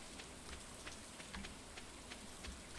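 Steady rain in the farming video game Fun Casual Farming 2, a soft continuous patter of drops with scattered brighter taps, fairly quiet and even throughout with no voices.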